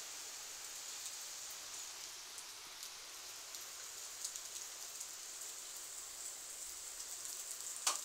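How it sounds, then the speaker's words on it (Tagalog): Steady rain falls outdoors as a soft, even hiss of fine patter, with a few slightly louder drops toward the end and no voices. "Look, it's raining."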